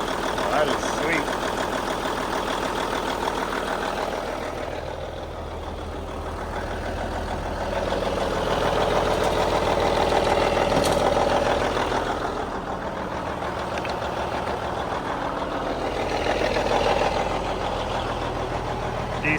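A big Cummins N14 mechanical diesel idles in a Kenworth cabover truck, a steady, close, low rumble with a slight swell midway, running continuously under indistinct voices.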